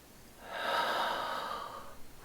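A single slow, audible exhale from a person, rising and fading over about two seconds, close and fairly soft.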